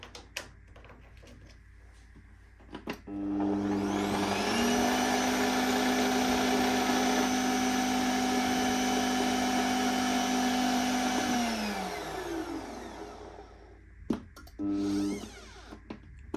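A Bosch meat grinder with a freshly repaired gearbox switches on and runs for about eight seconds with a loud, steady motor whine, then winds down, followed by brief clicks and a short second burst.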